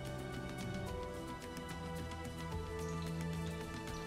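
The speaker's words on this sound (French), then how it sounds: "quand mon huile est suffisamment chaude, entre 160 et 180 degrés, ce qui est une température moyen plus, et ben là on va pouvoir cuire nos poulets" Chicken pieces frying in hot oil at 160 to 180 degrees, a dense, continuous crackling sizzle, steady and close throughout with no talk.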